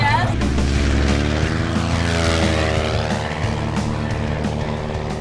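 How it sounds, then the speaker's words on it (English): A small propeller airplane's engine turns over near Newburyport, Massachusetts. A loud, close droning hum with rising and shifting pitch as it spins up and settles into a steady run. "engine is starting up very easily"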